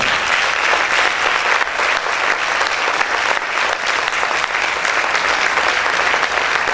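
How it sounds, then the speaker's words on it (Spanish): A church congregation applauding loudly, with sustained, dense clapping from many hands at full volume that carries on without a break. "¿Cuántos pueden aplaudir fuerte al Señor?"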